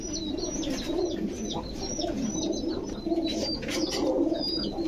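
A blue-eyed Jhuma pigeon coos at a pigeon market among other caged birds, a continuous low cooing murmur with scattered high chirps, close and steady, with almost no talking.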